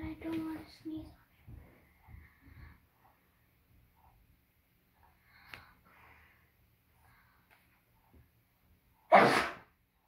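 A child sneezes once, loud and close, near the end, after stretches of quiet talk.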